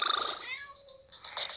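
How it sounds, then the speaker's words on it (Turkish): A grumpy pet cat in the mobile game PK XD gives short, high-pitched meows and purring sounds, heard close and alone for a moment. "Huysuz kedi yaygın ve uslu bir kedi."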